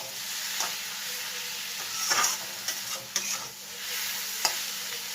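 Vegetables and spices for egg noodles are stirred in a hot pan, a steady frying hiss broken by a few sharp spatula scrapes and knocks, close by.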